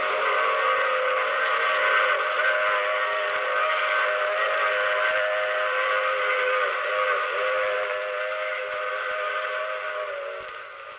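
A train sounds a long, steady whistle in an old-time radio drama, a sustained multi-tone chord held for the whole stretch over a low rumble, slowly fading at the end.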